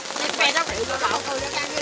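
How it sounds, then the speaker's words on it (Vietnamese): Heavy rain pours down at Phú Trị stream in Hoài Ân, making a dense, steady hiss with scattered drops and a low rumble, while an indistinct voice murmurs underneath. "trời đang rất là mưa"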